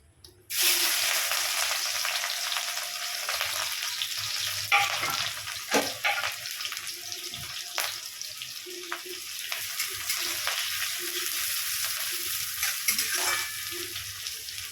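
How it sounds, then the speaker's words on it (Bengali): Chopped onions and green chillies frying together in a pan. A steady bright sizzle starts abruptly and carries on throughout, with occasional spatula scrapes and taps against the pan. "পেঁয়াজটা একটু ভাজা ভাজা করে নিয়ে করে নেবো"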